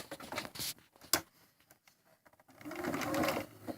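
A sewing machine stitches a pincushion seam in short runs, a quick whirring burst, a pause with faint handling noises, then a steadier longer run of stitching nearby.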